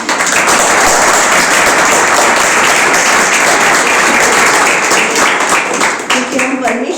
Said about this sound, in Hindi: ताली बजानी तो खुल के बजाए।